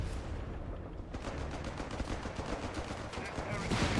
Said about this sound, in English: Machine gun narrowly avoids getting wiped by the Scot for now.